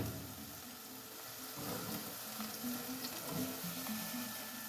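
Apples softening in a pan for cinnamon apple oatmeal give off a gentle, steady sizzle, quiet and close, with faint stirring scrapes and no talk.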